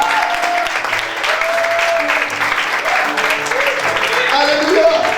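A church congregation claps and cheers during a French-language sermon, sustained applause mixed with scattered voices calling out over it throughout, with a louder swell near the end.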